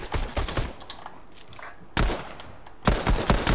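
Pistol gunfire in a money wars video game, a few sharp sporadic shots and bursts of clattering firing, moderately loud, with quieter gaps between.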